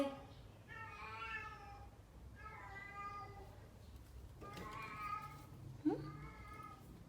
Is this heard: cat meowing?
yes